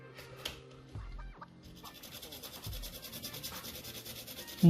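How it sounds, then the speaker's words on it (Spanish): Soft, steady scratchy rubbing, like pencil lead dragged back and forth on sandpaper, faint and close with a quiet rasping rhythm. "es usar un papel de lija"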